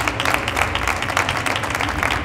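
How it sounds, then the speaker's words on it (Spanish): Audience applause for four authors at a book fair presentation, a steady dense patter of many hands clapping at moderate volume throughout, with no talk over it. "les hagáis un aplauso conjunto"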